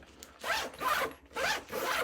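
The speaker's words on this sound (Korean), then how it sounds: "지퍼도 YKK 지퍼를 채용을 해가지고 부드럽게 열고 닫아지고" A YKK zipper on a Cordura sling bag is pulled open and shut, giving four smooth, close raspy strokes in a steady back-and-forth rhythm, with no voices.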